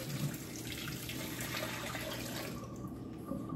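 Tap water pours steadily into a kitchen sink while mushrooms are rinsed, a soft continuous splash at close range that thins out toward the end, with no talking.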